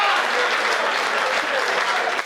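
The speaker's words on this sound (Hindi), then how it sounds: "हाथ खड़े करके तालियां बजाओ जरा एक बार साहब" An audience at a Hindi comedy poetry show claps with raised hands, a loud, dense burst of applause close to the microphone that runs throughout before dipping slightly at the end.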